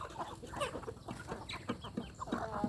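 Young domestic chickens, two to two and a half months old, cluck and chatter close by in a pen. Several birds overlap in busy, continuous calls.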